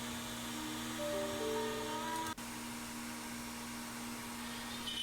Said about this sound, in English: we'll show you Arty at the end of the process cutting the new 3/4 inch holes